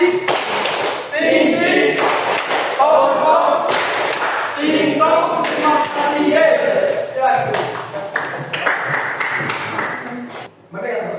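Classroom doing a rhythmic patterned thank-you clap, repeated bursts of group clapping in a set beat, with chanting voices between and over the claps.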